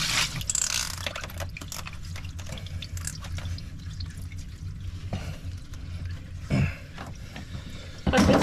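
Water drips and trickles from a boat's PSS propeller shaft seal as it is being replaced while the boat is afloat, spattering steadily and close by with a few louder splashes toward the end.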